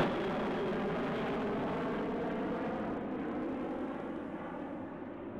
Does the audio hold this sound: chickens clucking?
no